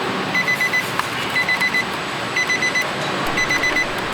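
Key-left-in-ignition warning chime in a 2018 Nissan Frontier, sounding as four evenly spaced bursts of rapid high beeps over steady cabin background noise, with no talk.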